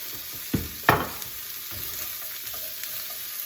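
Vegetables stir-fry in a pan on high heat, a steady close sizzle broken by a couple of sharp scraping stirs, with no voices.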